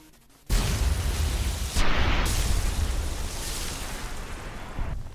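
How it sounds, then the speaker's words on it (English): A loud, sustained rumbling blast from an underwater explosion in Fallout: A Tale of Two Wastelands, with a second surge partway through before slowly fading into a roaring wash. "those explosions get really loud in the water"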